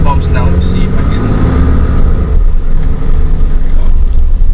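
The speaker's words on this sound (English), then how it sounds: "I'm going over some bumps now" A 2019 Ram 3500 Mega Cab one-ton pickup with a Cummins diesel rolls over road bumps, giving a steady low cab rumble with dull thumps from the suspension. Someone talks briefly at the start.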